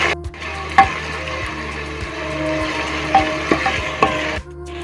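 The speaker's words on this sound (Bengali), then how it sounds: "পেঁয়াজ আর রসুনটাকে আমি একটু ভাজা ভাজা করে নেব।" Chopped and pasted onion and garlic frying in oil for a Bengali mutton kosha, a steady close sizzle punctuated by the periodic scrape and clack of a spatula stirring the pan, with no talking.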